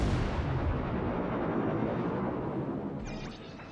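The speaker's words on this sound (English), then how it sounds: "the amount of fucking shells coming at me right now is disturbing" Heavy naval shellfire in a warship video game: a dense, continuous roar of booming salvos and impacts battering a ship, loud and sustained throughout with a slight easing near the end.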